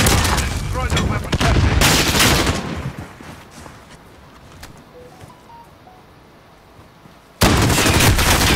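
Video game gunfire comes in dense bursts at the start, drops to scattered distant shots and quieter background, then returns loudly at the end, with some voice underneath.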